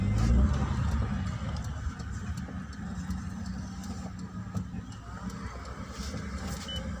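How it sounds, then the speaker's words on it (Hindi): A Maruti Alto car easing out along a narrow, sloping lane, its small engine a low steady rumble that is louder at first and then settles. "देखा जाए बाबूजी अपनी कार को कैसे निकालेंगे"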